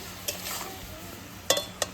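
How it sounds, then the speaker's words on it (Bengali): Onions fry in a pan over a wood fire, a soft steady sizzle broken by a few crisp clinks of a spatula against the pan near the end. "পেঁয়াজটা ভাজা করার জন্য আমি লবণ দিনে কাঠের জাল তো দেখেন পেঁয়াজ কি সুন্দর ভাজা হয়েছে"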